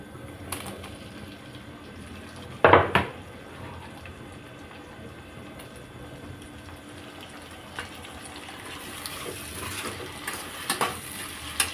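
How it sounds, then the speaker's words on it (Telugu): Tomatoes cook in a pan for paneer curry with a low, steady frying hiss, broken by one sharp clatter and a few light stirring knocks toward the end. "ఇప్పుడు టమాటా వేసుకుందాం"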